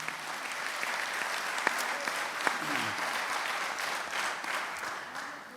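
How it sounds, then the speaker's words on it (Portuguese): Church congregation at an evening Bible prophecy course claps in steady, moderately loud applause that carries through the whole moment, with faint voices mixed in beneath the clapping. "Então aplauda o Senhor por tudo isto nesta noite."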